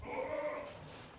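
A goat bleats once on a goat farm, a single close, loud, drawn-out wavering call lasting about a second.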